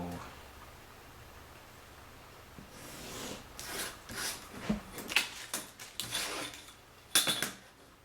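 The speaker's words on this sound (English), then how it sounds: "And then we're going to cut out this last piece." Scissors snip through paper while trimming a piece of a pop-up farmyard model, a series of close, crisp cuts and rustles that grow busier toward the end.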